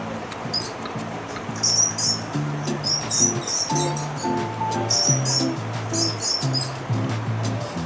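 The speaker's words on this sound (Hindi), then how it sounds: "ये चूहे की आवाज़ है" High-pitched squeaking chirps repeating in short bursts, like a mouse, over a low droning background.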